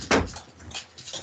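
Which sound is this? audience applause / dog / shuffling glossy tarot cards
dog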